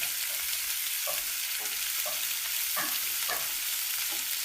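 Vegetables saute in a pan with a loud, constant hiss of sizzling oil, punctuated by periodic scraping strokes as they are stirred, with no talking.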